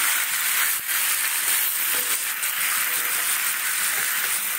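Meat being sautéed for kosha in a pot with lemon and coriander leaves, giving a steady, close, dense sizzle that carries on evenly throughout with no talking.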